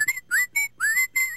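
Brer Rabbit whistles a short, bright, clear tune in five quick rising notes from the game 16 Tales, close and alone.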